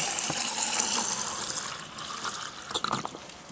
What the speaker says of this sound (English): So let's get some water in this guy